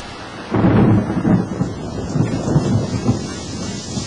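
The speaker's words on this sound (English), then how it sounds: "It begins to rain, and she walks quickly up to the road" A rumble of thunder rolls in over steady rain, loud and close at first and then lingering as a low, uneven grumble under the falling rain.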